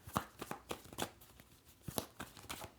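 Tarot cards shuffled and drawn from a deck in a series of short papery swishes and flicks, close and quiet, with no talking.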